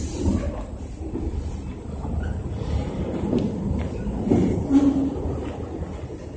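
A CSX freight train rolls past the Brown Street crossing in North Adams, a steady moderate rumble of wheels and cars with light clatter, fairly quiet and continuous throughout.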